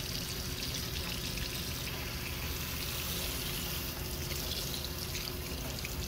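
Water running from a tap into a sink, a steady close hiss and splash that stays constant without a break.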